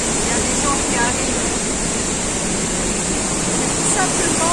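The Cascade du Fond d'Espagne waterfall roars as a loud, constant broadband rush of falling water, close and unbroken, with faint wind buffeting the microphone.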